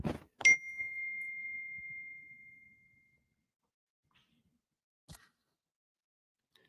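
A phone chimes once with a short text message notification tone, a clear ding that rings on and fades over a couple of seconds in a quiet room, followed later by a faint click.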